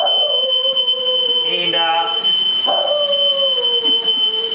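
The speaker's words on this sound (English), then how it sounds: "there we go, fire alarm, because we've got so much smoke going on here" A kitchen smoke alarm, set off by cooking smoke, sounds a steady, piercing high-pitched tone throughout, with someone talking over it.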